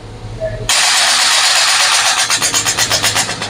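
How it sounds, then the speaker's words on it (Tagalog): A car with air suspension lowering itself, an abrupt loud hiss of released air that cuts in after a brief quieter start and holds steady, pulsing slightly toward the end. "Yung kotse ni Sir yung bumababa."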